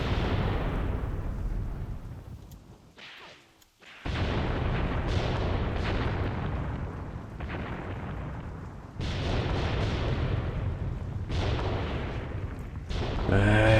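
Repeated booming artillery fire in the tank warfare game Graviteam Tactics, loud and dense with rumbling blasts that keep coming, a brief lull near the middle, then more heavy bursts, with no talk.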